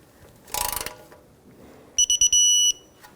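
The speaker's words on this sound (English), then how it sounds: "10mm socket, and torque wrench is set to 105 inch-pounds" A torque wrench set to 105 inch-pounds on a 10mm socket, tightening oil pan bolts on a 1997-2006 Jeep Wrangler 2.4L four-cylinder, gives a short burst of ratchet clicks followed by a few quick high electronic beeps.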